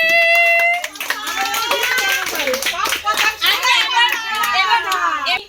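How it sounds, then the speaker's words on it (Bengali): Family members clap their hands at home while leaving on a trip, in a quick, uneven patter, with children and adults talking and calling out over the clapping. "ও আচ্ছা, হাততালি।"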